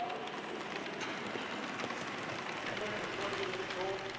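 A model train runs on a club layout during a test run, its steady rolling rumble and clatter continuing evenly throughout, fairly close, with no talk over it.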